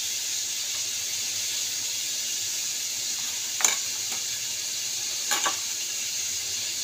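Ground coriander, cumin, turmeric and chili powder sizzle faintly in a pan, a steady soft hiss broken by two brief scraping stir clicks, with no talking.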